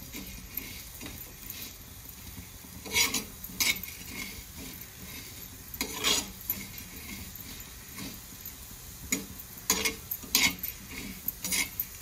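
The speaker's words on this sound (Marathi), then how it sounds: "मंद गॅसवर मस्त छान लाल होईपर्यंत भाजून घ्यायचे।" Coriander seeds, turmeric and salt dry-roasting in a pan over a low flame for a village-style chicken curry, with intermittent stirring scrapes and clinks of a spoon against the pan over a faint steady crackle, no talk.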